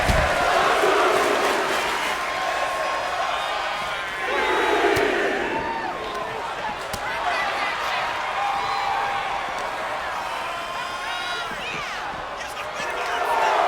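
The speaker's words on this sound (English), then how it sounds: "And you hear the crowd, this is awesome." A wrestling crowd at a Fully Loaded Wrestling show cheers and chants loudly after a suplex to the outside of the ring, in rising and falling waves, with a commentator talking over it.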